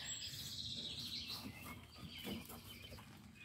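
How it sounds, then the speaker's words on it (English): Birds chirp outdoors on a quiet morning at a mountain home, with faint high calls scattered over a steady low background hum and no talking. "It's quiet. It's a quiet morning here, all except the birds. You know, you can always hear the birds at my house."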